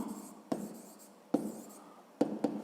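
A pen writes a maths sum in a notebook, soft scratchy strokes with several sharp taps as the tip meets the paper, close and quiet, no talk.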